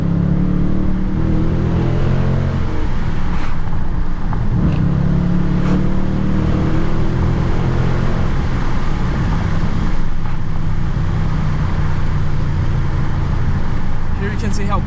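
2020 Dodge Challenger R/T engine at full acceleration, a loud rising rumble heard from inside the car with shifting pitch sweeps as it gears up, steady road roar underneath and someone talking over it.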